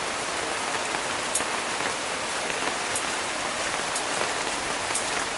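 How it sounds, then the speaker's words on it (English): Steady rain falls on a bonsai garden, a continuous even patter with occasional sharper drips, close and fairly loud, with no voices. "enjoy the rain"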